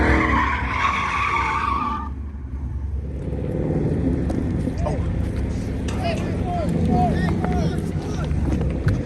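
A Mopar car slides in a practice session, its engine rumbling loudly throughout with intermittent tire squeal chirps, while people talk over it nearby.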